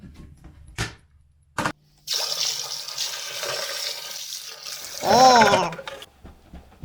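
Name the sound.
dumping used carpet cleaner water into the toilet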